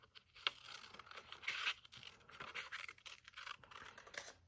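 Scissors snip and scrape through paper along an outside edge, a run of short close crisp cuts with brief pauses between strokes.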